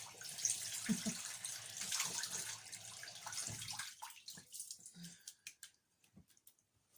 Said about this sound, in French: Je rince à l'eau fraîche, ça réveille et ça raffermit la peau.